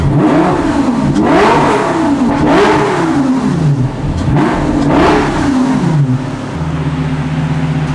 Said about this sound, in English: Having let the car sit for a while to warm up, I went for my first revs.